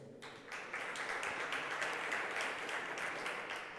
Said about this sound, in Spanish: también pido un fuerte aplauso